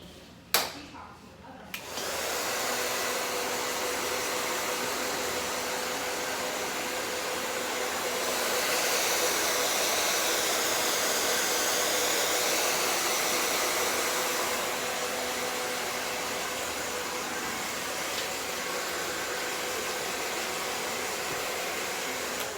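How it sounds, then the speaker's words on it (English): Hair dryer rough-drying wet hair during a blowout, a steady loud airy roar running almost the whole time after a brief start, swelling slightly in the middle as it moves around the head. "I'm gonna just, you know, pre-dry her just a little bit"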